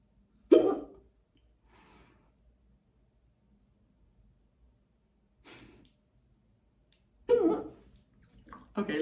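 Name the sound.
hiccups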